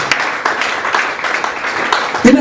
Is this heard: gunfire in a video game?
no